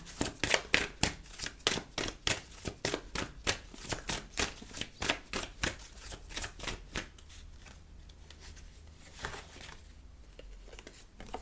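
Tarot cards are shuffled for a reading in a rapid run of crisp riffling flicks, brisk and close at first, then softer and more scattered.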